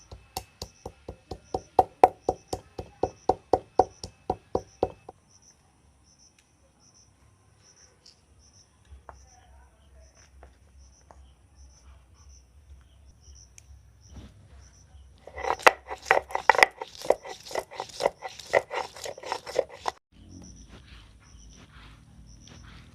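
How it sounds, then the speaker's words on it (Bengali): Ginger and garlic are ground on a grinding stone with a quick run of rhythmic scraping strokes, then a pause with faint low rumble, and another burst of brisk rubbing strokes, all against a steady insect chirp. "এবারে আমি মশলাটা করে নেব, আদা রসুন আর গরম মশলাটা বেটে নেব"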